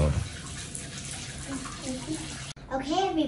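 A bathtub fills with water from a running tap in a tent stay in Đà Lạt, a steady rushing splash heard close up, then a voice briefly rises over it near the end.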